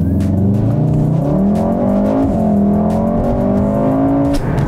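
A Volkswagen Golf R on new wheels accelerating on a road, its engine note climbing through rising, loud revs with a brief shift dip near the end.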